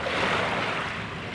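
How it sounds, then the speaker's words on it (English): Small river waves lap on the Thames foreshore at low tide, making a continuous close wash of water with a breezy hiss and no voices. "Be interesting to see how far these waves come up."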